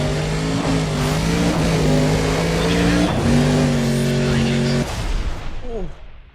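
Race car engines in a racing video game roar loudly together at the start, holding steady high-pitched revs before dropping off and fading near the end; no talk is heard.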